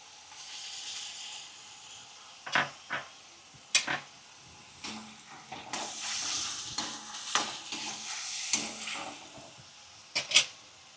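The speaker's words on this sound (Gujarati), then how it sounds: "હવે આપણે એમાં ટમેટાની ગ્રેવી નાખી દઈએ" Tomato gravy sizzling in a hot pan for a Punjabi-style corn curry, with soft steady frying hiss broken by repeated sharp scrapes and clinks of a spoon stirring against the pan, close and without talk.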